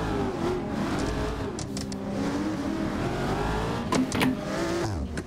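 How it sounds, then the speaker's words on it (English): Car engine in the Assetto Corsa racing game revving and accelerating with rapid exhaust crackles and pops near the end, loud and steady throughout with no talk. "Yo, this car. Oh, my God. It's crackling and popping."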